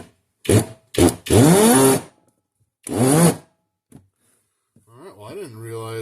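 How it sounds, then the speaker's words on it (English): DeWalt DGD805 hammer drill fires in several short bursts: two quick blips, a longer whirring run that spins up in pitch, then another burst and a softer run winding down, close and loud. "I didn't realize that was a hammer drill"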